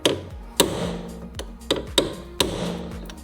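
Chisel hammered against a corroded rear shock absorber bolt on a Land Rover Freelander 2, six sharp metallic strikes at uneven intervals, each ringing briefly, close and fairly loud.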